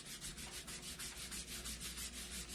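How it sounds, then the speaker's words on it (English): A cloth buffs wax off a wooden sign in quick, even back-and-forth strokes, a soft rhythmic rubbing heard close up and faint. "Then once I have the wax applied, I want to buff it off."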